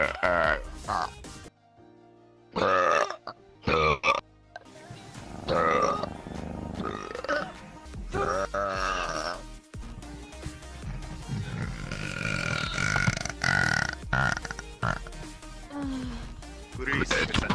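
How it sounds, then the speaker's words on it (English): A woman lets out a series of loud, deep burps, some long and croaking and some short, set between stretches of talking and a few quiet gaps. "There comes an actual burp."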